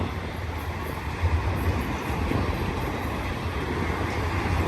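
A BNSF mixed manifest freight train with a Conrail locomotive in its consist rolls past close by, a steady, heavy rumble and rattle of railcars that fills the whole stretch without letup.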